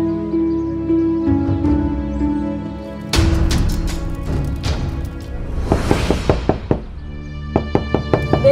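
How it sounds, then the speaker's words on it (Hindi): Someone knocks on a wooden house door in a series of sharp raps, first a loud cluster and then a quicker run of knocks near the end, with music and scene noise behind. "बेला, बेटा दरवाजा खोलो।"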